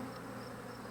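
Honey bees buzz steadily inside a Flow Hive during a hive inspection, a soft continuous droning hum that carries on evenly throughout without any voices.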